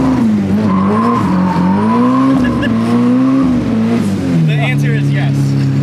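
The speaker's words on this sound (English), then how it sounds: "Do a donut in this tight over there." Honda K-series swapped Nissan 240SX doing a donut, loud sustained tire squeal that wavers in pitch over a revving engine, close up and continuous.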